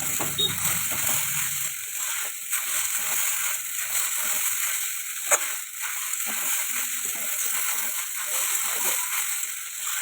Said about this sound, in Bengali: এইরকম করে কমসে কম 10 মিনিট ধরে ভেজে নিতে হবে